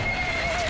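A horse in the video game Metal Gear Solid V, Afghanistan setting, gives a brief, steady whinny over a dense bed of game ambience, lasting under a second.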